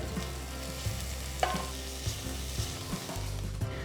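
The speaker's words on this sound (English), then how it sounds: "Once the onions are half done, add 6 cloves of pound garlic and saute well" Shallots and garlic cloves saute in a pan for a tomato curry, a steady close sizzle with occasional stirring clicks and scrapes throughout.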